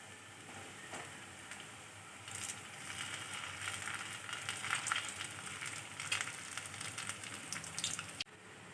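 Urad dal vadas (medu vada) deep-frying in hot oil, a steady crackling sizzle with bubbling bursts, close and continuous with no talking.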